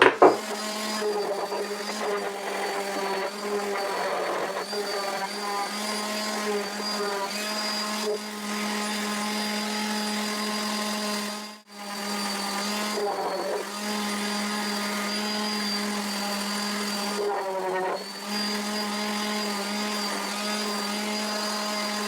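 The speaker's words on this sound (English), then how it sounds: "I'm just gonna get the little random orbital sander out and just sand this up quick." A small random orbital sander works over a wooden mini vise French cleat insert, a steady loud motor whine with harmonic hum running continuously, broken by two brief pauses near the middle and toward the end.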